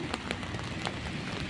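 Moderate night rain falling steadily, a dense even patter with scattered sharper drops, close and fairly quiet, with no one speaking.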